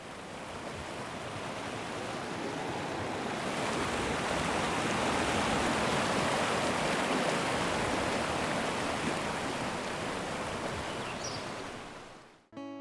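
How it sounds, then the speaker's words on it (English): Ambient forest and waterfall sounds from a cozy autumn video game, a steady broadband rush of falling water, loud and continuous, with a slight rise midway before it cuts off at the end. "ambient forest sounds like chirping, the rustling of the wind,"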